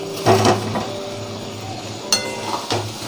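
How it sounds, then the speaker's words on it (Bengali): Pre-fried potatoes go into spiced oil in a pan with a few clattering knocks of a utensil against metal, a loud tumble at first and then sparse clinks over a low sizzle. "এবার এর মধ্যে দিয়ে দেব আমি আগে থেকে ভেজে রাখা আলুগুলো"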